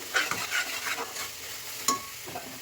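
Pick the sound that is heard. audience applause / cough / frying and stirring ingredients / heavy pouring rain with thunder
frying and stirring ingredients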